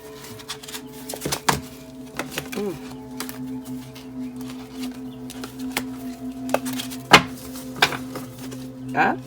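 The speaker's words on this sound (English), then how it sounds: "I want to shuffle in camera so y'all can see." Crisp flicking and riffling of tarot cards being shuffled, in quick irregular bursts over a faint steady hum, close by and fairly quiet.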